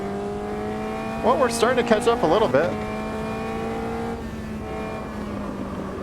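A race car in Automobilista 2 holds a steady engine drone on a tight, uphill, off-camber bend of a Suzuka-style layout, with a brief warbling squeal partway through while someone talks over it.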